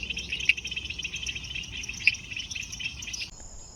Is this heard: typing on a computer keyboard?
no